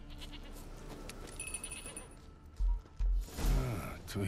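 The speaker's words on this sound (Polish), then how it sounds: "Koza!" A goat bleats in The Witcher 3 game, a couple of short loud calls near the end following clanking game sounds, with no speech heard in the stretch.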